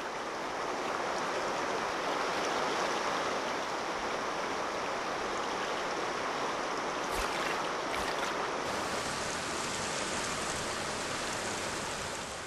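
Steady rushing of river rapids over rocks on a canoe route, a dense broadband roar at constant loudness throughout with no voices.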